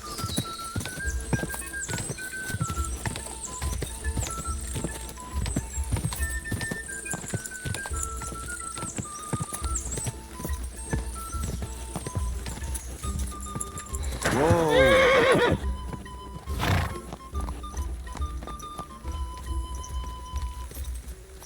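Horse hooves clip-clopping steadily in Kingdom Come: Deliverance, with a neigh breaking out near the middle, set against game music and occasional voices.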